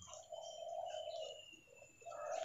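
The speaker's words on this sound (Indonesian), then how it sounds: "ini tekukur ya" A spotted dove coos softly in a few low, drawn-out notes with a pause between phrases, sounding somewhat distant against a quiet background.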